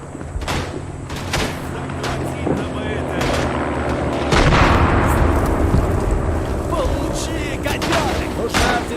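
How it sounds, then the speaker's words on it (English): A 305mm mortar round exploding in the Tannenberg World War I shooter game, with a heavy boom and rumble amid continuous battlefield gunfire and shouting, while voices talk throughout. "that was a 305mm mortar round"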